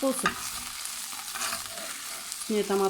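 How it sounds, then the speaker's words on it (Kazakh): Soft sizzle of vegetables frying in a pan, with a spoon scraping and stirring at the start and end. "үкіштен өткізген сәбізбен пиязды қуырып, сәл үстіне томат"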